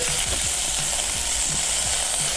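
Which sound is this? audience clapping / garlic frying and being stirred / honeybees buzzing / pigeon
garlic frying and being stirred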